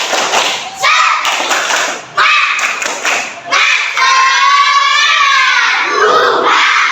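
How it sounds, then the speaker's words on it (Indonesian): Children in a classroom do a rhythmic spirit clap, bursts of sharp group claps and thumps in a set pattern, broken by gaps and followed by children shouting and chanting together in high voices. "Tepuk semangat."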